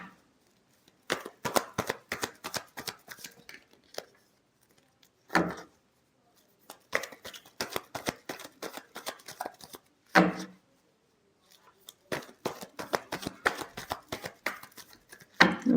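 Tarot cards shuffled by hand in repeated bursts of quick riffling flutters, separated by short pauses and a few louder taps, close and dry with no talking.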